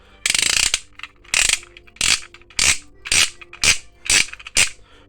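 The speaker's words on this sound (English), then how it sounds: "Now we're talking about the clicker. Clicky click." A clicker fidget toy snaps loudly in eight sharp, evenly spaced clicks, close up and alone, each with a brief ratcheting rattle.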